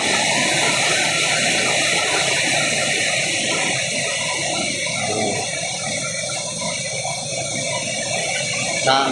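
Steady, heavy rain pours down without a break, a dense broadband roar of water that stays loud from start to finish.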